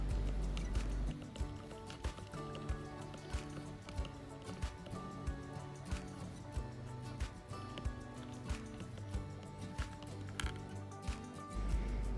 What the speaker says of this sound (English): I add a spoonful of salt into the water, and then I stir until it dissolves.